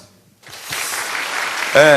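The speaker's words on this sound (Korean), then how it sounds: "박수." An audience at a pastor's lecture breaks into a burst of applause after a short silence, and the clapping swells and holds. A voice cuts in loudly at the very end.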